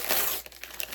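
Wrapping paper crinkles and rustles as a gift box is unwrapped, a close, busy burst of crackling that thins into scattered crackles.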